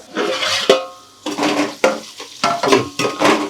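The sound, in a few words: onions frying in a pan for chicken biryani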